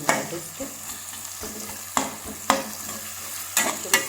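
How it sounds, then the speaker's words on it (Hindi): Long-sliced onions frying in a pan, a steady close sizzle broken by periodic scraping stirs of a spoon against the pan, with no talking. "प्याज को थोड़ा रेस्ट पे छोड़ देंगे, अपने आप पकता रहेगा ये।"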